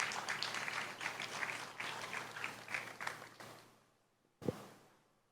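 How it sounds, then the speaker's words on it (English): An audience at an evening tribute event applauds, a moderate wash of clapping that fades out after a few seconds, followed by a single low thump. "A round of applause for him."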